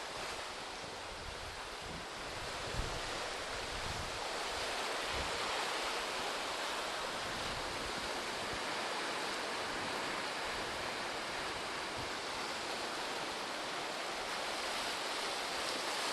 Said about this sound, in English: You can see the water washing all the way through that.